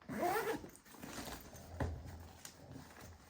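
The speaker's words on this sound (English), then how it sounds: "it has one large zipper here" A large zipper on a packed bag is pulled open in a quick rasping stroke nearby, opening a large compartment, followed by softer rustling and handling noises.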